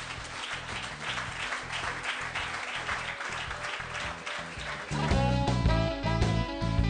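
Audience applause welcoming Professor Romano Prodi: steady, dense clapping from a crowd that grows louder and fuller toward the end, with music-like tones entering over the final seconds.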